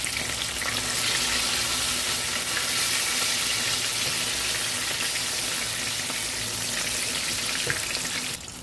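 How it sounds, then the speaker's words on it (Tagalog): Pork belly fries in hot oil for kare-kare, a dense, steady sizzle with crackling spatter that holds loud and continuous throughout, with no talking. "Yan, pasayawin muna natin sa mantika"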